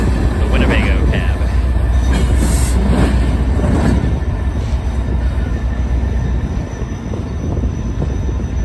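A train rolls past on Chicago's Roosevelt Road, with a loud steady rumble, rail noise and some wheel squeal running through the whole stretch, fading slightly near the end.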